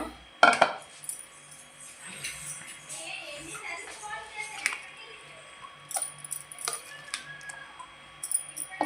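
Mango coconut chutney is scooped from a steel mixer jar into a bowl: a sharp clink at the start, then scattered light scrapes and taps of a spoon against metal, with some talking in the room.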